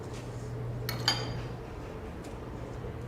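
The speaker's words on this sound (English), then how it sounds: "let me get this whisk out of here" Metal whisk clinking against a mixing bowl of meringue as it is lifted out, two or three quick bright clinks close by, brief against a quiet kitchen background hum.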